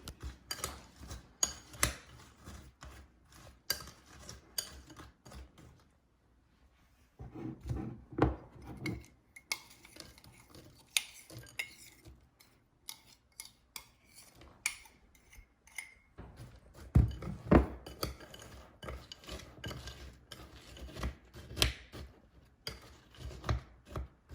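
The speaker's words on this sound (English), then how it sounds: "you're going to want to start mixing it so that the butter coats the Oreo crumbs" Oreo crumbs being stirred into melted butter in a bowl, a run of irregular scraping and clinking taps of utensil against the bowl with short quiet pauses, close and fairly faint.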